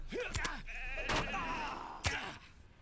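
Sheep in the Lord of the Rings Online game bleat close by, a few wavering calls over steady game ambience while someone talks.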